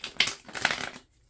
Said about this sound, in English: That was maybe not my best shuffle